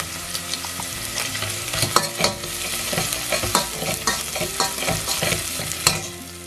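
Chopped garlic and red onion fry in a pan for a vegan chickpea curry, a steady close sizzle broken by repeated scraping stirs and clinks of the utensil against the pan.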